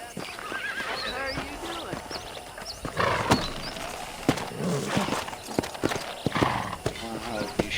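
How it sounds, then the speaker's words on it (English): A horse in Red Dead Redemption whinnies repeatedly amid clip-clopping hoofbeats and scattered knocks, fairly close, while someone talks over it at times. "o cavalo tá solto"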